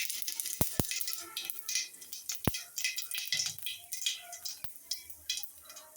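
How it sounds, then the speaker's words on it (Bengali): Cumin and radhuni seeds tempering in hot oil make a scattered, faint crackle and patter, broken by a few sharp clicks of a utensil against the pan. "এখন আমি এই যে জিরা আর রাঁধুনি সস ফোড়ন দিয়ে দিলাম।"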